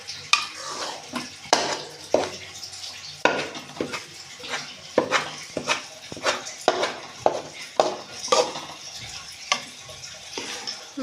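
A spoon scrapes and stirs gram flour (besan) roasting in a pan over low flame, in repeated rhythmic strokes against the metal, close and moderately loud, with a faint sizzle between strokes.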